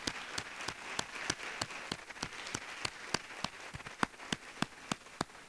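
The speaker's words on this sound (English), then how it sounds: "I think everybody who has made it so far deserves a round of applause." An audience at a regional spelling bee applauds, a steady patter of many hands clapping at moderate distance that keeps going evenly without any voices.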